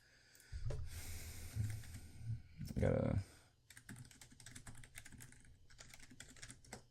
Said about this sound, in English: My clicky keyboard